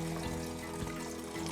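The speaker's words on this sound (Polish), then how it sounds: "Zlewamy kąpiel klarującą" Clearing bath liquid poured out during 16mm film developing, a soft continuous trickle and splash of liquid draining, faint and steady with a low hum beneath.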